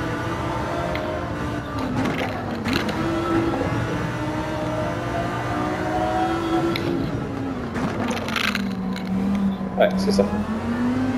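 A Honda NSX in the racing game Gran Turismo 7 runs with a steady engine drone whose pitch rises and falls through gear changes, while people talk over it.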